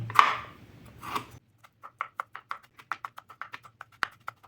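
Garlic is minced with a knife on a board, a steady run of sharp, evenly spaced chops heard up close. A couple of louder rustling knocks come first.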